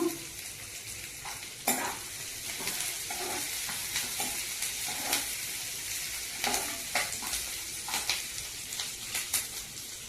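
Onions and curry leaves fry in a pan with a continuous loud sizzle, broken by periodic scraping stir strokes up close, with no voices.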